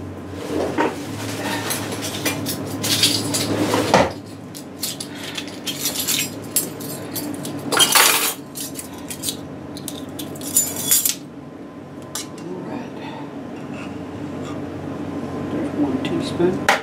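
Metal measuring spoons rattle and clink while being rummaged through in a kitchen drawer, coming in several close bursts of jangling amid general kitchen handling noise, with a person talking at times.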